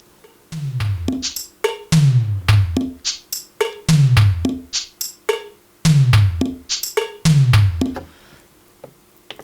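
Drum samples from a KORG Wavestate play in a fixed, repeating order, with punchy low kicks and sharp clicky hits in a tight, regular pattern, close and loud with no voices.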